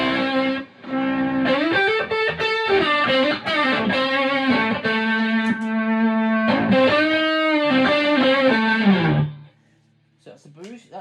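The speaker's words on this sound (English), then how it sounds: "So that's the boost. That's the fuzz pedal." Electric guitar run through a boost and a fuzz pedal into a Fender amp, playing sustained, buzzy fuzz-toned notes and bends loudly and up close for about nine seconds before cutting to near silence with a few faint picked notes.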